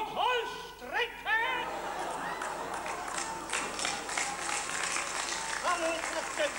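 Applause and cheering from an opera audience fill the hall steadily, a dense patter of clapping heard under singing and speech from the stage at a comic opera performance.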